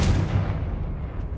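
A Confringo fire spell blast in the Hogwarts Legacy video game, a loud, close, booming burst that rumbles and fades over about a second.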